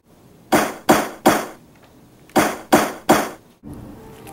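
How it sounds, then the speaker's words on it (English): A judge's wooden gavel bangs six times in two quick groups of three, each strike loud and close with a short ring-off, followed by faint room noise. "No, I think it's the judge's hammer."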